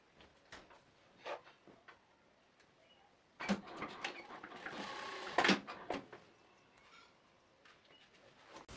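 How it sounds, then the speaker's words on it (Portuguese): A sewing machine stitches elastic into wide-leg trousers, running in a few short bursts and one longer loud run midway, with quiet pauses between. "eu vou costurar essa parte aqui, depois eu termino de puxar o elástico e costuro o outro lado"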